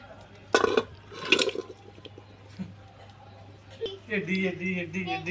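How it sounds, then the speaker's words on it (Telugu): Two short splashy bursts of water being poured into a pressure cooker with marinated country chicken for biryani, close by, followed by a person talking over a low background hum. "ఒక గ్లాస్ వాటర్ పోసుకుందాం"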